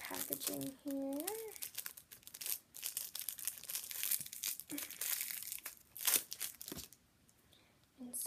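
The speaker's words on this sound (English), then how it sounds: "I'm just going to take it out of the packaging here" Crinkly plastic packaging rustles and crackles up close as a makeup crease brush is pulled free, in short bursts over a quiet room, with a brief vocal sound near the start.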